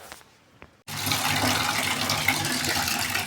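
Water gushing steadily for a cold bath, starting abruptly after a brief quiet moment and running loud and continuous like a tap or bucket filling, with no talk over it.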